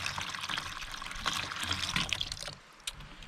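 Hot water, heated over campfire coals at a river campsite in Mark Twain National Forest, pours and trickles steadily at close range. It fades near the end and leaves a faint splash.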